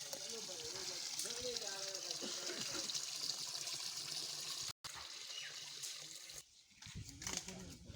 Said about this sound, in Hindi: दो साथी हमारे जो हैं वो चिकन को धो रहे हैं